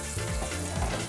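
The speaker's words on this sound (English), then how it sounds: "Be careful when you do this, it's gonna sizzle." Breaded schnitzel sizzling in oil over medium heat, a steady dense crackle and hiss held close throughout without a break.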